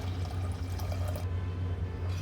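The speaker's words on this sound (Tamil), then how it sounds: "1 டம்ளர் கவுனரிசிக்கு 5 டம்ளர் தண்ணி சேர்த்துக்கிறேங்க" Water pours steadily into a pressure cooker holding ground kavuni rice for payasam, a continuous close gushing and splashing, with no voices.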